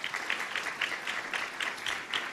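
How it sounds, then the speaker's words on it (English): Audience applause at an awards ceremony, a brief steady patter of many hands clapping, moderately distant and even in rhythm. "A round of applause for Michael."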